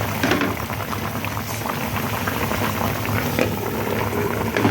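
Salmon sinigang soup boils in a pot, a dense, continuous bubbling and gurgling up close, steady and loud with no voices.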